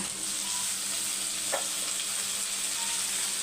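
Curry leaves and whole tomatoes roast in a pan with a steady, moderate sizzle and a single brief clink partway through, and no one speaks.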